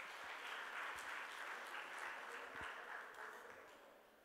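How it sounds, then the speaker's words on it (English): Listeners at a Jaipur Literature Festival session applaud the speakers, a moderate, fairly distant round of clapping that holds steady and then softens toward the end. "Can we give a huge round of applause to our speakers, please?"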